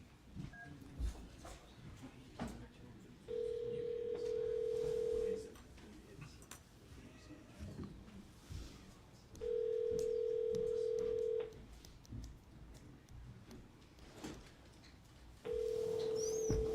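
Telephone ring-back tone on a call that goes unanswered, three long steady beeps repeating at regular intervals over a faint, murmuring room background.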